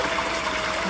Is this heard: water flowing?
yes